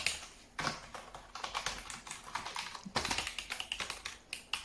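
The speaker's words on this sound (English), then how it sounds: "It's comfortable to type on." Close, quiet typing on a Microsoft 850 wireless keyboard, with rapid irregular key taps in bursts and a few louder strikes, likely the space bar.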